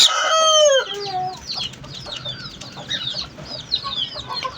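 A rooster opens with a loud crow, then hens cluck and chatter in quick, scattered bursts close by, a busy flock of chickens sounding off without any talking.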